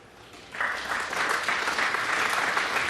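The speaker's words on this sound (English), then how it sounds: "And worthy of the applause" Snooker crowd breaks into sustained applause after a razor-thin, perfectly weighted safety shot at the 2018 Players Championship, the clapping starting suddenly and holding steady, dense and fairly loud, with no talk over it.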